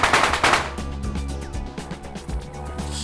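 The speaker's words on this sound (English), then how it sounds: "we get ready for the big bangs" Squib explosive charges set off for a film effect, a rapid string of sharp bangs crackling in quick succession, loud and close, then ringing echoes and a few scattered pops as they die away.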